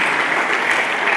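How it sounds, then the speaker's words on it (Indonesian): A church congregation claps during a sermon, a brief, dense burst of applause filling the room at moderate loudness. "Mari kita berikan tepuk tangan dulu bagi Yesus Kristus Tuhan."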